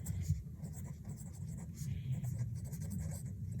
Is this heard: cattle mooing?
no